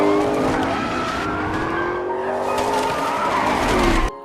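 A car drives fast with loud tire squeal and skidding across a few seconds in a film about a man alone in a town with a dog, the engine and screech close and continuous before cutting off abruptly.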